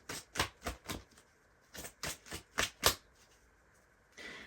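Tarot cards shuffled by hand in a run of crisp riffling bursts, roughly a dozen quick flutters in uneven rhythm with a short pause midway, close and fairly quiet, no talking.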